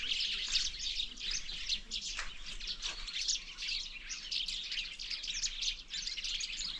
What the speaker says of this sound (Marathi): पाखरं किती आलेत बघा आवाज येतो आहे का